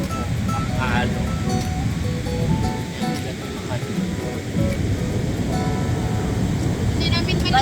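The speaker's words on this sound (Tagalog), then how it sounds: "Hindi namin maligo pero sobrang lakas ng alon." Strong ocean waves at Baler beach, a loud continuous roar of surf with a broad rumbling wash throughout, heard under voices talking nearby.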